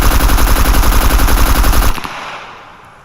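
Loud, rapid automatic rifle fire in the video game Scum, a sustained burst of evenly spaced shots lasting about two seconds, then a short echoing decay into quiet.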